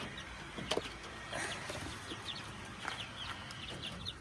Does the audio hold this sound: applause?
no